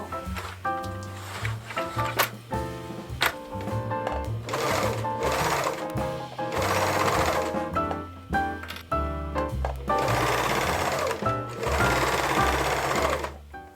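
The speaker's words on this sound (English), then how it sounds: "Now we're gonna sew." A sewing machine stitches a dress skirt in rapid bursts of rhythmic mechanical whirring, starting and stopping, close and loud.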